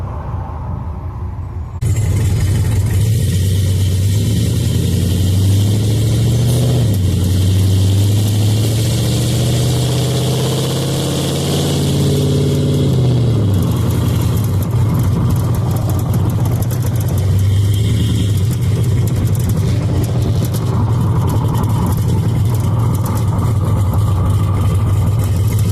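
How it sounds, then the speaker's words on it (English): A car with an LS 5.3 V8 and a Chopacabra cam rumbles loudly from inside while driving down the road, a deep lumpy idle that rises and falls through acceleration and shifts, steady and close, no talking. "we'll just drive down the road here and let you listen to it a little bit"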